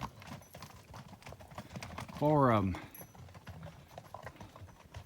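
Horse hooves clip-clop along a dusty Pacific Crest Trail, soft and fairly distant, with a brief whinny midway while a person speaks a few words nearby.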